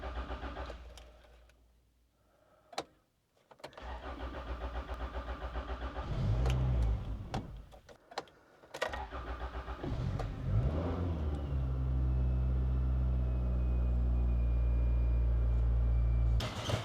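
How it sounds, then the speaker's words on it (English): A Honda car starting after an overnight battery charge on stale petrol: starter cranking, the engine catching, then a steady idle that carries on loud and close to the end. "I'm going to try and start the Honda"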